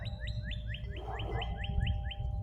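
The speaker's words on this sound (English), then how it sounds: "The birds." Birds chirp outdoors on a sunny day, giving a steady run of quick, evenly spaced high tweets, fairly close, over a low, constant rumble of wind or distant background noise with no talking.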